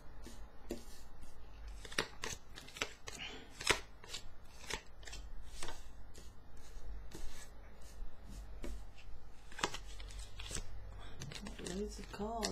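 Tarot cards are shuffled up close in a quiet room, with repeated crisp riffles, taps and slaps in irregular bursts, and a soft voice murmurs briefly near the end.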